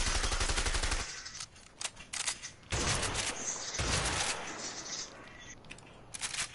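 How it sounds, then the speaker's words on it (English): Bursts of assault rifle fire from a video game, an M60 among the weapons tried, crackle in several rapid volleys with brief pauses between them, loud and close throughout. "Let me try this assault rifle out."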